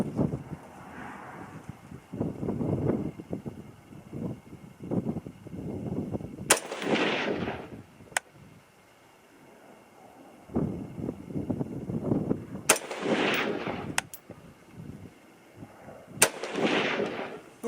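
Three loud gunshots from a PSA PA-15 .223/5.56 rifle crack out several seconds apart outdoors, each with a sharp report and a short rolling echo, over steady wind noise and faint background rumble.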